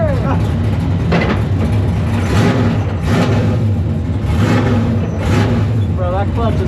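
Nissan S14 drift car engine running steadily and pulling away for a lap, a loud mid-pitched drone with revs rising and falling, heard from inside the car beneath voices talking.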